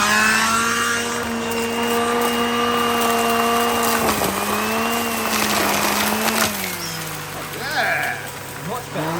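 A vacuum cleaner fitted with a turbo brush head runs steadily and loudly, its motor whine holding an even pitch, with a brief dip near the middle and some irregular scraping toward the end.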